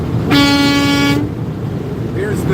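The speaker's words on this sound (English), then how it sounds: "Here's the air horn, right?" A truck air horn gives a single loud, steady blast lasting under a second, with a strong low tone and many overtones, followed by road noise and a faint second toot.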